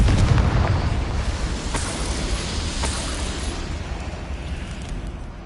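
Confringo spell blast in the Hogwarts Legacy video game, a loud booming explosion with a heavy low rumble that decays gradually, followed by fainter crackling bursts.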